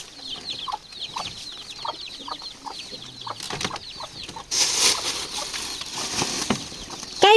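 Chickens in a rural Thai forest-dwelling household cluck in a quick series of short calls, fairly close, followed by rustling and a burst of wing flapping, with a sharp squawk at the very end.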